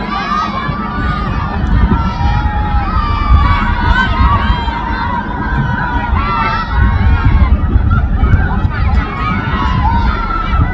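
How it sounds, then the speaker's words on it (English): Townspeople and school children cheer as a Hurtigruten ship arrives at port. The crowd sends up a continuous chorus of excited shouts and high-pitched yelling that swells and falls throughout. "The townspeople have turned out to cheer us on"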